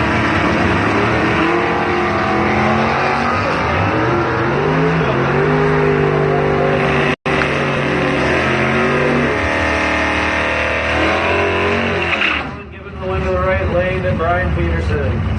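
1981 Camaro drag car at a drag racing event, a loud close engine roaring and revving through rising and falling gear-like sweeps, with an announcer talking over it.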